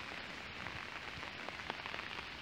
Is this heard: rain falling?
yes